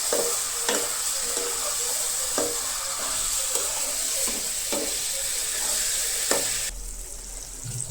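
Chopped tomatoes and coriander leaves sizzle and hiss steadily in a pan, with regular scrapes of a spoon stirring them, loud and close throughout.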